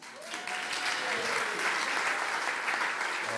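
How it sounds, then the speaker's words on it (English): The audience at the European Business Forum 2024 claps steadily in a sustained, fairly distant round of applause filling a hall, with faint voices mixed underneath. "let's give them another round of applause"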